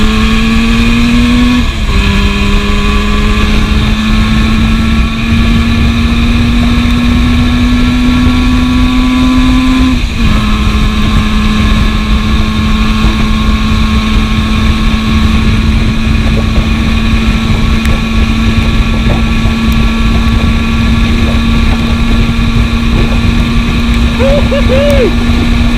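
A 1972 classic two-stroke motorcycle engine screams at high revs while riding at speed, a loud steady drone with a brief pitch shift early on, over constant wind rush.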